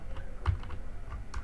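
Fingers tap keys on a computer keyboard in a few quick, light clicks, with a brief burst around the middle and another near the end, close and alone with no talking.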